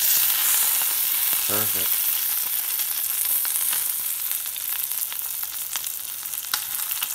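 Brook trout fillet fries steadily in a pan with lemon pepper seasoning, a dense, loud sizzle with crackling pops throughout; a voice speaks once briefly.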